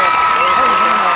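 A crowd at a low-budget talk show applauds and cheers, a loud, dense wash of clapping that fills the whole short moment, with voices mixed in.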